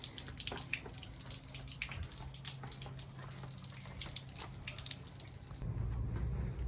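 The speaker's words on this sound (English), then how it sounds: "Just pump fresh water, everything through the system." Fresh water is pumped through a boat's plumbing system, giving a steady rushing, splashing flow like a running tap that continues alone, with a low pump drone.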